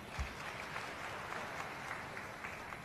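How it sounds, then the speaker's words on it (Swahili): Applause for the president from an audience at a comedy event, a faint, steady patter of clapping that runs evenly throughout. "Makofi kwa mama jamani."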